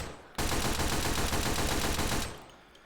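A new submachine gun fires one long sustained automatic burst of about two seconds, loud and close, with tightly packed rapid shots that then cut off into a brief fading echo.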